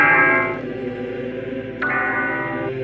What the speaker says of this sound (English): ringing a bell to signal that he was still alive